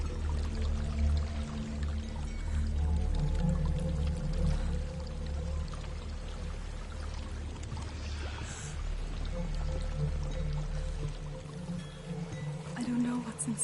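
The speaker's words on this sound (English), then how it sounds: "There's a waterfall." A waterfall in the video game Hellblade roars as a steady, dense rush of falling water, loud and continuous, with low background music beneath it.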